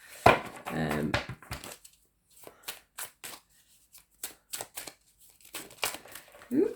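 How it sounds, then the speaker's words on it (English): A large deck of about 72 to 80 reading cards being shuffled, with crisp riffling bursts and sharp separate snaps and taps spread across the stretch, alternating with brief quiet gaps and a little speech. "Sometimes these take a bit of shuffling because there's so many cards."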